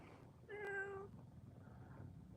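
A house cat gives a single clear, close meow that rises and falls over about half a second, then falls quiet against faint room noise.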